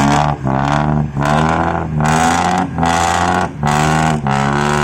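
A two-wheel hand tractor engine revs hard in repeated surges, each loud roaring burst followed by a brief dip, in a steady pulsing rhythm close by.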